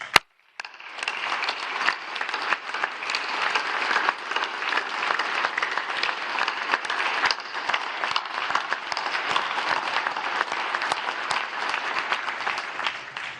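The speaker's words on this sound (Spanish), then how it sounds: "y le aplaudimos" A large crowd at the 108th anniversary ceremony of the Mexican Army applauds in a sustained, even wash of clapping after a brief opening click, lasting over ten seconds with no speech.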